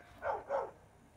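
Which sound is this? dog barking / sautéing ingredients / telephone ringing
dog barking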